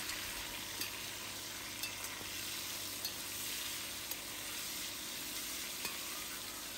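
Meat frying in heated oil for Uzbek pilaf, a dense, even hiss of sizzling fat with faint crackles and a few soft clicks, steady and close with no voices.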